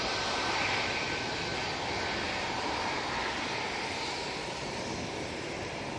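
TUI Boeing 737 MAX 8 landing at Manchester Airport on its way in from Lanzarote, a steady, loud broadband jet roar with a faint whine running through, holding level for the whole stretch with no voices.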